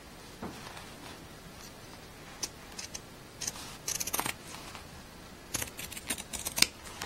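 Scissors cut through thick denim jeans fabric in a series of crisp, close snips and crunches, spaced irregularly and fairly quiet, with no talking.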